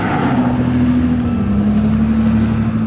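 A car engine idles steadily and evenly with a smooth low hum and no misses or rattles, accompanied by a constant whooshing noise that resembles wind.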